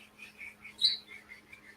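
A 21-year-old pet bird chirps in a quiet room, giving a string of soft, high tweets with one louder chirp partway through and no voices.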